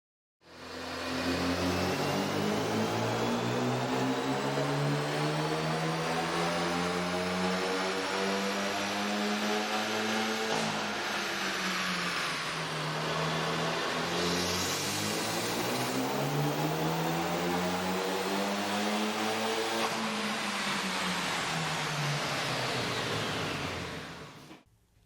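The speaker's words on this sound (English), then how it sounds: "Here's a comparison of the car's sound on the dyno with the stock OEM system versus AEM's air" A 1.6-litre turbocharged Hyundai Veloster Turbo of the 2013–2014 model years, fitted with an AEM air intake, revs on a dyno. It gives a loud, continuous engine roar whose pitch rises and falls through repeated sweeps, alone with no voices.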